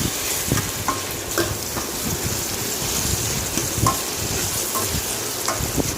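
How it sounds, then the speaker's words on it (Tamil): Tomatoes sauté in a pan for drumstick kara kuzhambu, producing a loud, dense, continuous sizzle. Occasional spoon scrapes and clinks break through the frying, and nobody speaks. "தக்காளி போட்டு நல்லா வதக்கிக்கோங்க"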